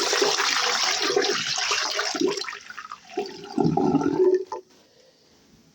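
Tap water poured into a bathroom washbasin rushes and gurgles down a freshly unclogged sink siphon for several seconds, loud and continuous, then cuts off to near silence.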